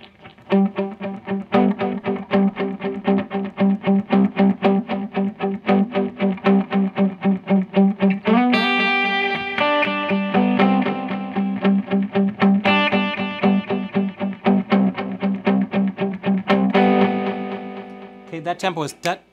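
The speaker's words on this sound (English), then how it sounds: "Let me crank it up even a little bit more. Let's add some distortion," An electric guitar played through a pedal rig with tap-tempo delay and distortion rings out in steady rhythmic strums with repeating echoes, turning brighter and more saturated as the distortion comes in partway through.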